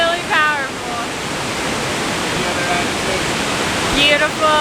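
Iguazu Falls waterfall roars as a loud, dense, continuous rush of water that fills the whole clip, with bird chirps and voices faintly audible over the steady wash.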